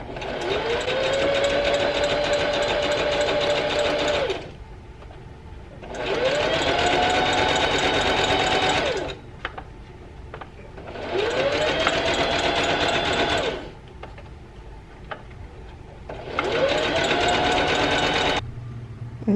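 A sewing machine stitching a lettuce hem runs in four long bursts of steady, close whirring, each rising quickly to speed, with short quiet pauses and faint handling between runs.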